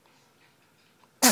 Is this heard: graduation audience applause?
no